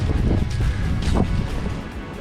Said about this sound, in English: It's also really windy, you can't hear. 50-mile gusts, 50 mile an hour,